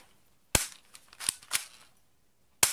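The slide of a Double Eagle P169 spring airsoft pistol is pulled back, giving sharp plastic clacks and clicks: a loud snap, a few lighter clicks, then another loud snap, close and alone.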